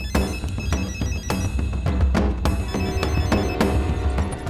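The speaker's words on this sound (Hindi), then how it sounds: "उसके ठीक 2 हफ्ते बाद मुझे एक फोन आया।" A musical phone ringtone plays loudly with a steady beat and repeated percussive hits, uninterrupted for several seconds.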